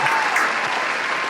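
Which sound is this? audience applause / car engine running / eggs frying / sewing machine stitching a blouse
audience applause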